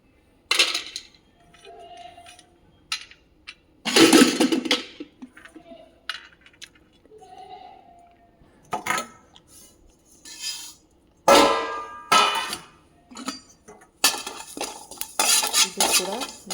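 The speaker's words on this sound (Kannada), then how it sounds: "ಇವಾಗ ಏಲಕ್ಕಿ, ಲವಂಗ ಮತ್ತು ಎಳ್ಳನ್ನು ಹುರ್ಕೊತಾ ಇದ್ದೀನಿ ಸಪ್ರೇಟ್." Whole cardamom, cloves and white sesame seeds roasting in a pan, with bursts of metal spoon stirring and scraping against the pan in uneven, clattery spells separated by quieter gaps.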